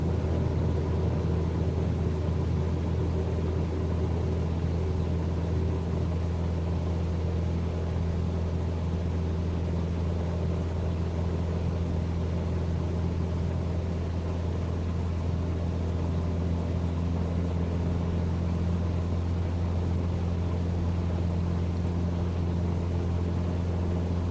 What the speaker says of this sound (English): I'm going to open up the throttle, raise the flaps, and go around